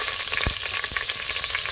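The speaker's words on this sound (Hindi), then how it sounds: "बढ़िया से देखिए लाल हो चुका मेरा जीरा और इसमें लहसुन प्याज मिर्चा डाल देते हैं" Garlic, onion and chili hit hot oil with red-toasted cumin for a tadka, setting off a loud, continuous sizzle broken by a couple of sharp clinks and scrapes from stirring.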